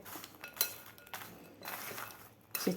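Roasted makhana is tossed together with chopped vegetables in a bowl for a tangy bhel. The mixing makes quiet, close rustling broken by a few light clinks against the bowl, and nobody speaks.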